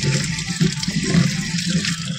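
Giant taro is washed under a running kitchen tap, a continuous close splashing of water with shifting gurgles as the tuber is rubbed in the stream.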